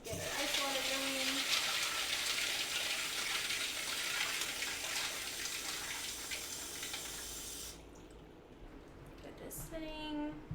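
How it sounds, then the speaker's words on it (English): Tap water gushes steadily into a container in a home kitchen to make ice water, a loud continuous rush that cuts off near the end, leaving faint room sound and a brief voice. "I'm just gonna add some water to get our ice water going."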